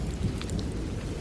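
A nighttime thunderstorm beside a riverside shop, with heavy rain pouring steadily and a low rumble of thunder rolling under the downpour.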